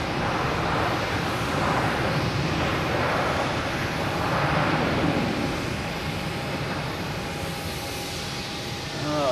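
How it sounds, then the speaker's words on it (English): An Alaska Airlines airliner parked at Boston Logan Airport runs its auxiliary power unit, a steady, loud broadband roar and whine that holds constant throughout with a faint tonal hum. "We still have another APU going here with Alaskan Airlines sitting in front of us."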